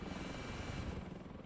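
Combat helicopter in the video game Into the Dawn, heard as a steady low rotor drone and rumble, fairly faint and continuous with no talk over it.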